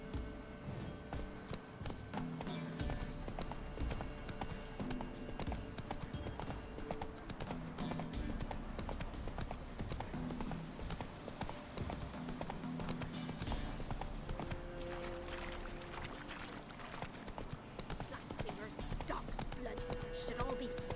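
Hooves of the horse Roach clip-clop in a steady walking rhythm in The Witcher 3 video game, with game music and voices talking over the footfalls throughout.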